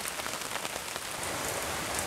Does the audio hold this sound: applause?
no